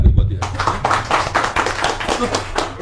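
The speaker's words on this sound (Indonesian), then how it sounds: "tepuk tangan nih buat dia" An audience at an Indonesian ministerial meeting with housing developers breaks into brisk clapping that sounds like a modest group in a room, with irregular rapid hand claps, fairly close and continuous.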